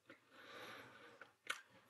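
Chewing gum mixed with a mouthful of solid food, soft close-up chewing with a couple of crisp bites, quiet and alone.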